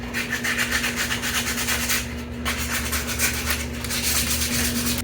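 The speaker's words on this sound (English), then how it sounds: "gently sand with some 220 paper to get off any spots" Close, continuous back-and-forth rasping of 220-grit sandpaper over a milk-painted wooden pig, steady strokes with a short pause midway, alone with a faint steady hum underneath.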